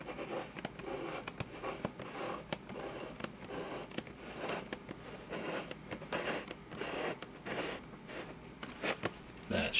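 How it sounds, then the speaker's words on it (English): A knife slicing carefully along the lid of a cardboard box, giving a steady run of small crackling, zipper-like ticks and snaps for about ten seconds, close up with no talking. "we're just going to do a careful cut along the lid here."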